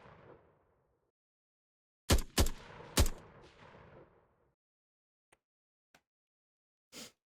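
Gunfire from AI enemies hip firing in a Vietnam-era first-person shooter game: three loud close shots in quick succession, then a few faint distant pops and one last moderate shot after a quiet stretch.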